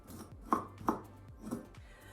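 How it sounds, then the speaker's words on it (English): Lemon zest and sugar are muddled with a pestle, giving soft, close, quiet grinding thumps in an uneven rhythm of about four strokes, with faint scraping between them. "pound the zest gently with a pestle or muddler for about 5 minutes"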